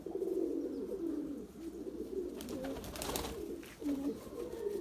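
Pigeons coo steadily in low, rolling murmurs, close by, with a brief flutter or scuffle partway through.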